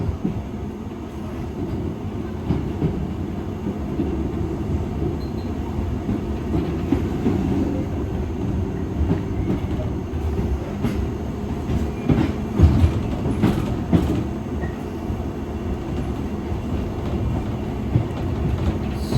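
A London Underground Piccadilly line train runs on the tube, a loud continuous rumble and rattle of carriages with steady wheel noise and occasional clanks, heard from inside, no one talking.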